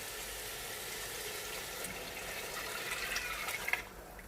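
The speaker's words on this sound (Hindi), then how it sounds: "अब मैं इसमें यखनी ऐड करूँगी। पहले से हमने जो यखनी तैयार की है, हम यखनी ऐड करेंगे।" Beef yakhni broth pours steadily into a cooking pot, a continuous watery rush lasting several seconds that swells slightly near the end, close and moderately loud with no talking.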